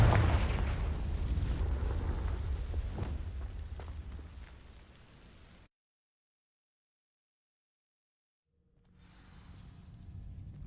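A Confringo fire spell blast in Hogwarts Legacy on PS5 against dry vines, a loud booming burst that roars and fades, then silence before a quieter rumble returns.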